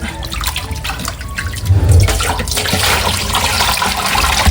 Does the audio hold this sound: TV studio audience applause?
no